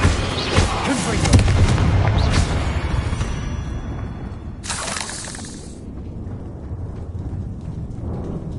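A Confringo fire spell blasts in Hogwarts Legacy with a loud, crashing shatter and boom up front, then a second burst a few seconds later as the rumble fades.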